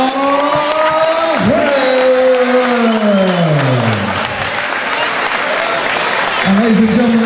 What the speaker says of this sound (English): So round of applause, ladies and gentlemen